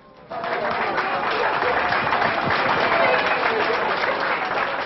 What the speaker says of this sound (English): the Archbishop found friendly faces and applause waiting for him here in Rome